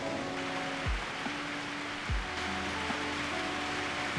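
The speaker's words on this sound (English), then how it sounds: "The rain with its soft sounds offer us a moment of tranquility in the midst of our busy lives." Rain falls on leaves outside a window in Lucerne, a constant soft hiss with a few faint tonal sweeps drifting through the background.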